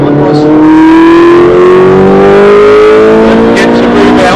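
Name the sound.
race car engine accelerating on Brands Hatch Indy circuit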